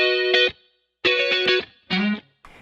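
Clean electric guitar chords with chorus, set up for 80s-inspired pop tones, ring out in three short, loud, shimmering bursts separated by silence, with a fourth starting at the end.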